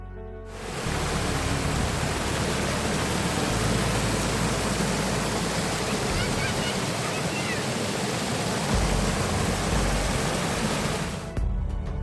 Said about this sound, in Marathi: हा पाण्याचा खळखळाट